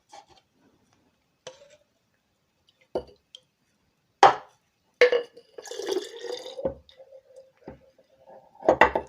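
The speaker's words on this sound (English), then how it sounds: "Add a bit of water, swirl around and keep going." Water is added to pigment powder in a jar and swirled around, giving sparse, close knocks and clinks of glass followed by short bursts of sloshing liquid, with quiet pauses between them.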